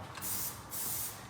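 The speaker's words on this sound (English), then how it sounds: "I'm probably going to just style with a bit of like a spray wax" Two short hissing bursts of spray wax go onto hair during a men's long creative haircut, close and fairly soft, no talking.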